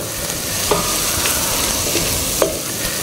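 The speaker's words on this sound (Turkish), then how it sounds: "soğanları iyice pişiriyoruz" Onions cooking in a pan for Turkmen pilaf, a loud, even sizzle of oil with a couple of light utensil scrapes, and no talk.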